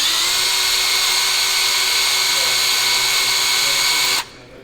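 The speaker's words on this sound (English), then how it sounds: "Lightly put it into your drill mandrel here" An electric drill spins a corroded pin from a Ducati Monster 1100 rebuild against Scotch-Brite, a steady high whine running close and loud for about four seconds before cutting off abruptly.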